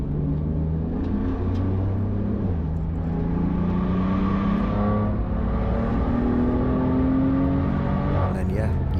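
A BMW M4 driven fast on the Nurburgring, with a steady loud engine drone and whir that rises in pitch as the car accelerates, heard from inside the car throughout.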